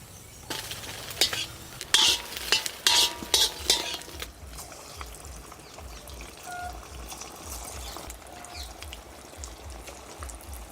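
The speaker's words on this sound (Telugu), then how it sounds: "మనం పక్కకు పెట్టుకున్న చేప ముక్కలను ఆ బాణీలో వేసింది" Korameenu fish pieces go into a hot pan over browned onions for a Telangana-style curry: a burst of close metallic clinks and clatter early on, then a softer, steady crackle of frying with occasional light knocks.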